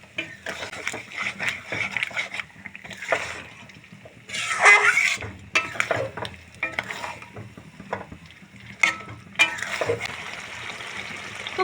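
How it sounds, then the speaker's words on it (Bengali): Cashew paste sautéed over normal heat in a pan while being stirred, with steady sizzling and frying under repeated scraping and stirring strokes throughout. "এখন দিয়ে দেবো আমি কাজু পেস্ট। আমি নর্মাল আঁচে কষিয়ে নেব।"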